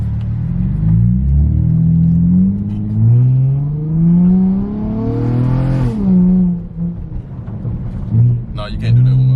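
A car engine rumbles and revs up and down while driving, with a few sharp crackles near the end as the throttle is released, under close conversation inside the car.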